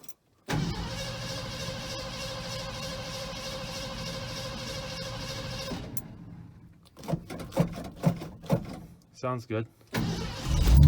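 A 1969 Ford F100 pickup with about 140,000 miles cranks and fires into a steady, loud running engine drone that holds for several seconds, then cuts away to clunks and knocks with a person speaking briefly.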